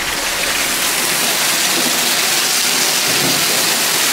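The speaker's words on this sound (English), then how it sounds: "Started raining. Look at this." Rain pouring heavily outdoors at a teen pool party, a loud, dense and unbroken hiss that fills the scene with no voices over it.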